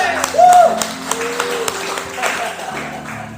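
A church congregation claps during a sermon, scattered applause sounding in short bursts beneath a loud voice that speaks and calls out over it.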